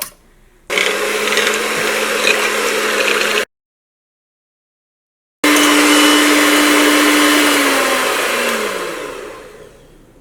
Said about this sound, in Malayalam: അപ്പോൾ നമ്മൾ മുട്ട ചേർത്തിട്ട് നന്നായിട്ട് ബീറ്റ് ചെയ്തെടുത്തിട്ടുണ്ട്.